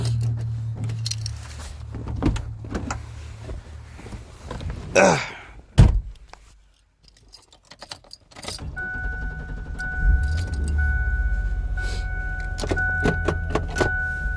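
Someone climbs into a truck with keys jangling and a door thunking shut around the middle, then a quiet cabin before the vehicle hums to life with a steady electronic chime tone over the idle.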